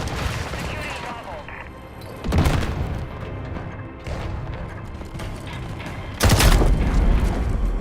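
Grenade blasts during Modern Warfare multiplayer, two loud low booms standing out from constant gunfire and battlefield clatter, with radio-style voice callouts in the mix.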